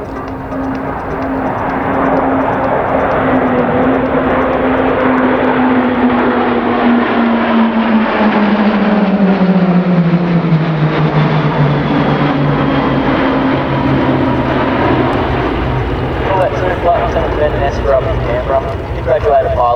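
A Roulettes aerobatics team aircraft performs rollbacks at an air show, a loud sustained propeller drone that slowly falls in pitch as the planes pass, heard continuously for about twenty seconds under a commentator's voice.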